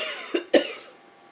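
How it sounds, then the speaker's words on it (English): Two sharp coughs in quick succession, the second louder, followed by a fading tail of room echo. "Coughing."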